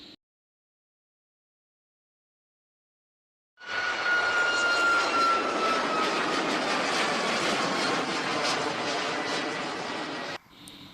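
A Boeing jet aircraft engine roars in after a few seconds of silence, a loud, dense, steady broadband rush with a faint whine riding on top that holds for about seven seconds before cutting off.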